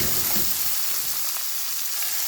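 Shrimp being sautéed in a pan give off a steady, close frying sizzle with a few soft stirring scrapes near the start, no talking.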